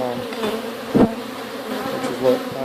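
Honey bees droning around an open backyard hive during an inspection, a close, steady buzz with a couple of louder passes near the microphone.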